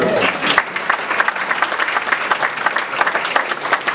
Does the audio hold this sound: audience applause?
yes